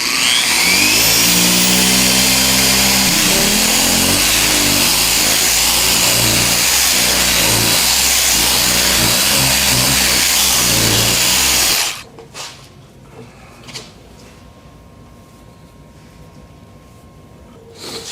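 A car polisher spins at high speed compounding automotive paint, giving a loud, steady whirring drone that ends abruptly partway through, leaving near quiet with a few faint knocks.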